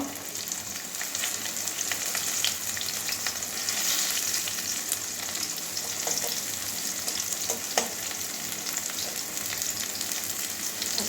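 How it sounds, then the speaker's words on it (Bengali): Garlic fries in oil in a pan with a dried red chilli, producing a steady moderate sizzle with occasional pops and light stirring scrapes throughout, no voices. "কতগুলো রসুন সেত করে নিয়েছি ভেজে নেবো এটাও"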